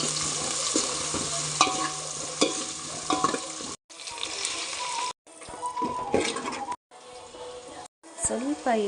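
Ground mint paste fries in hot oil and is stirred with a spoon for green mint pulao, giving a loud, crackling sizzle broken by scraping strokes and several brief pauses.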